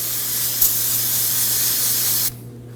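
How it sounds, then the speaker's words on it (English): Brake cleaner hisses in one loud, steady aerosol spray onto a rag for about two seconds during a front brake job on a 1993-2001 Subaru Impreza, then cuts off abruptly. "We're going to just use some brake cleaner on a rag."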